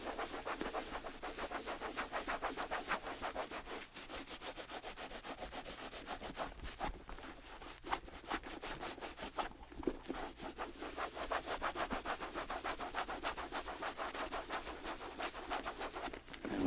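A cloth buffs conditioning cream into the leather of a Louis Vuitton sneaker, giving soft, close, continuous rubbing and brushing strokes in a quick repeated rhythm throughout, quiet and intimate with no talking.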